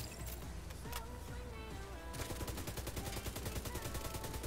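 Light machine gun fire in the shooter game The Division 2, with a few scattered shots first, then a long, rapid, evenly spaced stream of loud gunshots.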